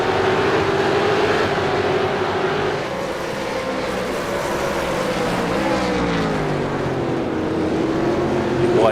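A close train of six V8 race cars circulating at Imola, their engines a steady loud roar with shifting pitch as the pack runs nose to tail, continuous throughout with no voices over it.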